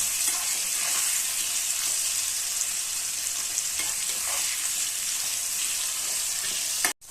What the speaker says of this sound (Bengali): হলুদ আর নুন দিয়ে আমি আলুগুলোকে সুন্দর করে দেখো ভেজে নিয়েছি